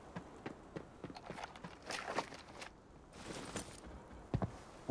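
Footsteps in the video game Arena Breakout, a string of soft, irregular steps on a hard surface with a few louder thuds, fairly faint and moving close by, with no talk over them.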